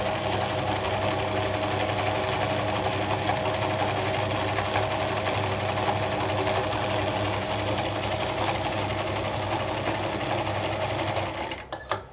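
A black Singer 319K sewing machine runs steadily, stitching very short stitches in one loud, continuous mechanical whir. The motor slows and stops right at the end.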